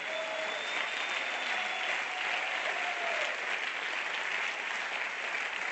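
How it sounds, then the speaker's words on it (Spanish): A church congregation applauds in a sustained, dense wash of clapping that holds steady throughout, with faint voices and whistle-like tones blended underneath. "denle un aplauso al Señor Jesucristo"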